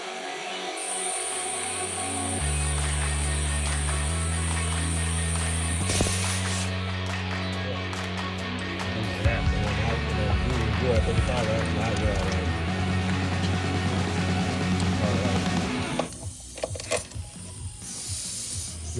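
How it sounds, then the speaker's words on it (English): Air hisses out of a tire through a Monster valve as it is let down from 35 to 18 PSI, a steady close rushing release lasting many seconds, with a voice speaking near the end. "twist the red neck and release the tire pressure"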